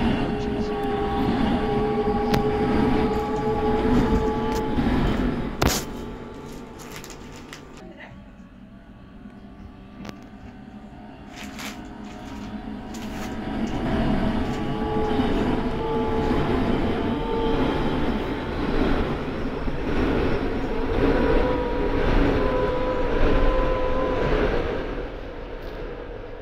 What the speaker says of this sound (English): This train is formed of 17 coaches.